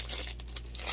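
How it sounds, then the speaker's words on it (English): Crinkling of plastic packaging on a Crafter's Square craft bottle as it is opened, a close, brief rustle with small crackles and one sharper snap near the end. "the noise for the people that don't like the sound of the plastic"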